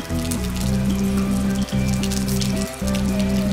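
Continuous rainfall with crisp dripping and pattering drops runs throughout, layered over repeating low musical tones with short pauses between phrases.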